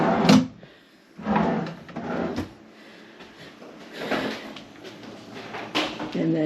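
Dresser drawers in a resort hotel room sliding open and shut several times, with sharp knocks and scrapes at irregular intervals while a person talks throughout.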